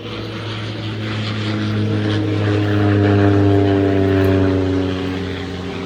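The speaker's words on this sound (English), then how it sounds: "That was our flyover that we requested for you." Propeller aircraft passes overhead at a veterans' honoring event, its droning engine tones swelling to a peak mid-pass and then easing away, heard alone without talk.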